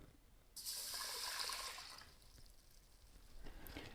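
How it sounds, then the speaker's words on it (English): Water pours into an Instant Pot holding dry quinoa, a steady splashing stream that starts abruptly and runs for about a second and a half before trailing off to a softer trickle. "I'm going to add 3 cups of water"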